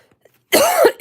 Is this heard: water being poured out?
no